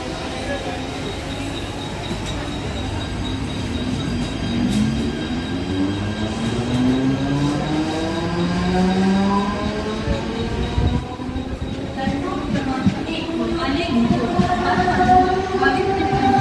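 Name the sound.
Mumbai local train at Central Line station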